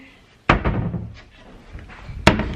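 A cupboard door in a rainforest holiday lodge is shut with a loud, close slam, followed by a softer bump, then a second sharp knock a couple of seconds later.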